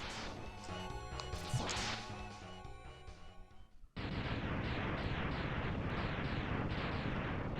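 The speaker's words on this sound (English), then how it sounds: "That's a real satisfying explosion right there." Defeated boss Vile explodes in the video game Mega Man X, first a burst of crackling blasts and metallic ringing, then after a brief drop a loud, dense string of rapid rhythmic explosion pops continuing steadily.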